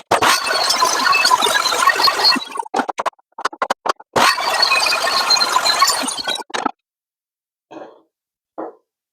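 A job-site table saw rips thin strips with a thin-rip jig, two loud shrieking cuts of a few seconds each separated by clatter and gaps, followed by short faint knocks.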